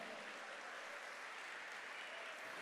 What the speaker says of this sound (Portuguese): Pode aplaudir a escolha desse irmão.